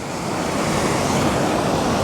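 Skyfall waterfall at Glen Etive in Scotland gives a steady, loud rushing roar of falling water, broadband and continuous, close to the listener, with no voices.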